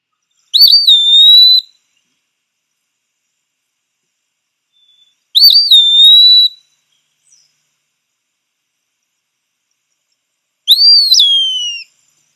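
Three separate, loud, clear whistled calls from a migratory forest bird, the peewee, each about a second long with rising then falling slurred notes and long silent gaps between them.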